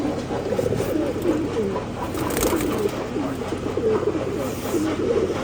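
Domestic pigeons recovering from illness coo in a steady, low murmur, with overlapping throaty calls running continuously at moderate loudness and no talk over them.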